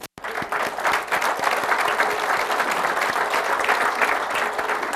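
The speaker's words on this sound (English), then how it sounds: "Thad, we'll give you a round of applause." Audience at a town's state-of-the-address event applauding an attendee, dense steady clapping from a roomful of people that begins at once and holds evenly, with no voices over it.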